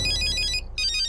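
A phone ringtone plays in a loud, bright electronic pattern, close by, with a short gap before it resumes.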